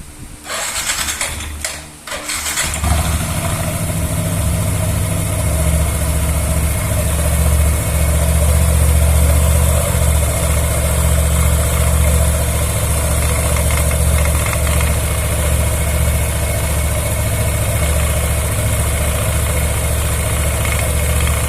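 A Yamaha NMAX or Aerox scooter engine cranks and catches after a couple of seconds, then settles into a loud, steady close-up idle hum for the rest of the clip.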